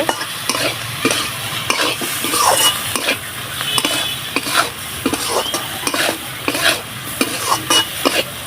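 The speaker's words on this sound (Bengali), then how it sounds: "এই যে শুকনো মরিচের গুঁড়া, মশলাগুলো সবজির সাথে খুব ভালো করে মিশিয়ে নেব" Vegetables stirred with dried chili powder and spices in a pan: steady frying sizzle under repeated scraping strokes of a spoon against the pan, close and fairly loud, with no talking.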